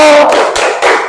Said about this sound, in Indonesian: coba kita tepuk-tepuk dulu